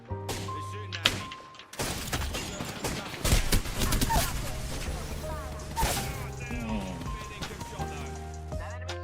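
Gunfire in the video game Apex Legends rattles in dense bursts through a busy mix of music and effects, with a loud stretch in the middle and a steady clatter continuing throughout.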